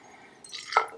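Abridged Beer Co's Misidentified Double IPA glugs and splashes into a glass, a short close pour that quickly builds to a foamy gurgle and ends in a bright liquid splash.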